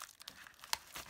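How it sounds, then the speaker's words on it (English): Plastic packaging bag lifted out of a small envelope of drone parts, brief close crinkling and rustling with one sharper crackle, faint and unaccompanied by talk. "Then I lifted out the bag"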